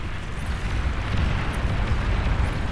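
Continuous loud rumbling explosions from bombing runs in the strategy game Beyond All Reason, a dense low roar filling the whole stretch with no talk.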